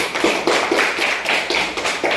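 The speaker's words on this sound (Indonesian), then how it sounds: "Tepuk tangan untuk kelompok A." A small group claps in a quick, fairly regular rhythm, a brief burst of hand claps close by.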